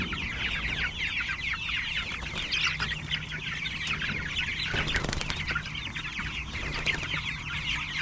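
Chickens in a coop cluck and chatter continuously at moderate volume, with occasional wing flapping and low background rumble.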